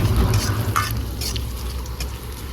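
Mustard seeds, curry leaves, finely chopped ginger and garlic sizzle in hot oil in a pan for a Gobhi 65 dish, with steady frying crackle and a few soft scrapes of stirring close by.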